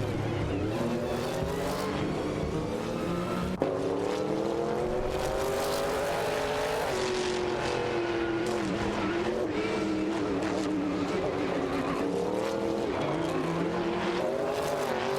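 Race cars in a simulated AI race zoom past in a continuous loud engine drone with shifting pitch, overlapping cars and some tire noise.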